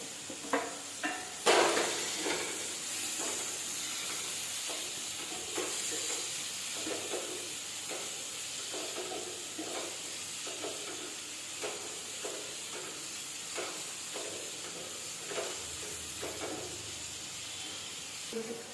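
Onions and tomato sautéing in a pan, a steady faint sizzle with soft scraping stirs and occasional clinks of a spoon on the pan, continuing throughout without talk.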